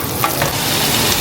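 Chopped onion and garlic fry on an electric stove, a continuous near sizzle and crackle with occasional stirring, no talking.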